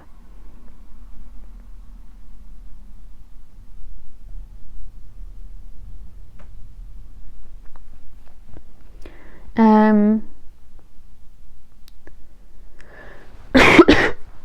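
One close, throaty cough with a harmonic, voiced quality, then a short sharp burst a few seconds later, over a quiet room hum.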